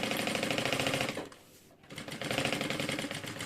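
Sewing machine running a safety seam along the edge of a Paris-style fabric bag, a fast steady mechanical chatter that pauses briefly midway before resuming at full speed, close and loud.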